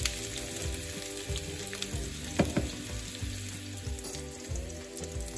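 Potatoes frying in olive oil in a pan, a continuous close sizzle and crackle with occasional stirring clicks, steady and fairly loud with no voices.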